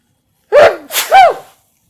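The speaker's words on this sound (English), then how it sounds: "now we know it makes me sneeze" One person gives a loud, close double sneeze, a sharp intake breath and then a forceful burst, after trying a strawberry ice cream float, with silence around it.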